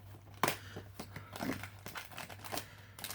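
A plastic mailer holding an Amazon wallet is opened with repeated crinkling and crumpling and a sharp tearing burst early on, the close rustling continuing in irregular bursts with no speech.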